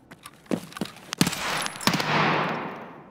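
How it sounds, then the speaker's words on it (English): Gunfire in the online shooter Escape from Tarkov: several sharp close shots crack in quick succession, followed by a sustained burst with a ringing, echoing tail. "And then you try to shoot my legs"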